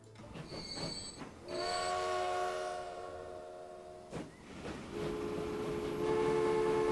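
A train rolls along in the Transport Fever video game, with sustained horn tones over rumbling rail noise and a clanking hit midway, steady and moderately loud without voices.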